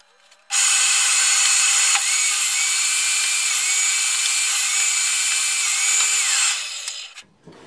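A table saw runs steadily for several seconds, its high whine holding as it cuts through a thin wooden cigar box, then spins down and stops.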